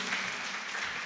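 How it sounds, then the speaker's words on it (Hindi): Loud applause from the audience at a religious discourse, a dense steady wash of many hands clapping, close and continuous throughout the short moment. "एक बार जोरदार तालियां बजाइए इनके लिए"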